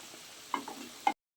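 Eggs, sugar and garam masala stirred into a simmering egg curry, with a soft background hiss, two sharp scraping knocks about half a second apart, then abrupt silence.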